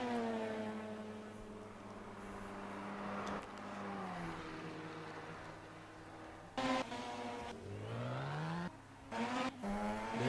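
Renault Megane race car in a racing sim pulling out of the pit at Poznan, Poland: a moderately quiet engine whine rising and falling through gear changes, with a couple of brief louder bursts.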